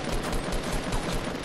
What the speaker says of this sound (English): Oh, they have the new gun. I hear it.